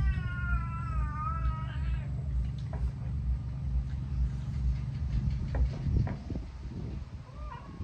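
Cats meow and yowl near a home kitchen, a few drawn-out wavering cries at the start and fainter calls later, over a steady low background hum with scattered household clatter and no talk.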